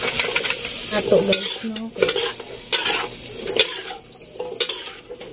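Chayote being stirred in a cooking pot with sardines: continuous scraping and clinking of a utensil against the pot over a soft sizzle, with brief talk near the start.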